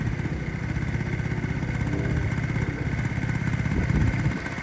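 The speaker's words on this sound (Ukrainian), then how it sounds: "Послухайте, як ідеально працює двигун." A Honda Dio AF-34 scooter engine idles steadily nearby, a smooth, even putter with a light clattering rhythm.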